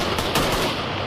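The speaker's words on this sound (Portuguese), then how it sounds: "Há dias, o que mais se ouvem são tiros." Gunfire in Port-au-Prince, Haiti, during a period of street violence: a couple of sharp cracks ring out over a dense, noisy urban background within about a second.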